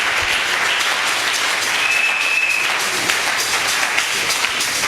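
A church congregation applauding, sustained loud clapping from many hands that fills the room evenly from start to finish.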